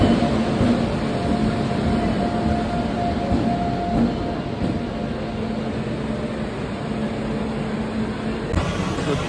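A late-running passenger train at a railway station, its steady rumble and hum filling the space continuously and loudly with no talk over it.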